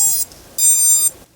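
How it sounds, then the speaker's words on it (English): A quadcopter's electronic speed controllers give their startup beep sequence at power-up: two clear, high-pitched beeps, each held briefly, sounding close and alone. "you'll hear the all familiar ESC startup beep sequence"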